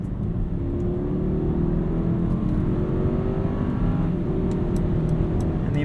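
A 2021 Mercedes-Maybach GLS 600 with 550 horsepower accelerates on a night drive, heard from inside as a loud, continuous engine drone that slowly rises in pitch, with steady road rumble beneath and no voices.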